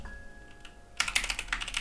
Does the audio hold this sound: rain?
no